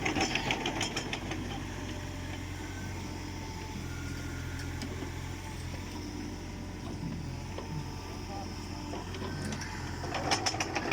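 A small Kubota mini excavator engine runs nearby, a steady low diesel rumble with faint knocking texture and occasional sharp clanks over it, with no talking.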